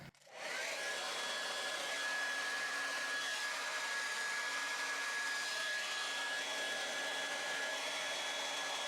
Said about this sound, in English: so it doesn't blast your ears out with a hairdryer sound